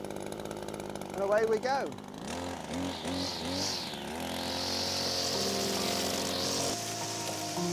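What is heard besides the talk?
Cobra MT270K petrol multi tool engine starting after recoil pull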